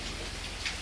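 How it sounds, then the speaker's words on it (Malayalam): Heavy rain falls at a resort in Masinagudi, a soft, even hiss of steady downpour heard faintly and without a break over a brief moment. "അടിപൊളി മഴ,"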